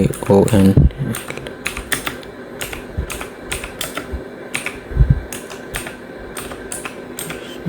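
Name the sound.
typing on a computer keyboard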